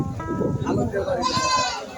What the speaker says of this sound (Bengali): একটি ছাগলের বাচ্চা আছে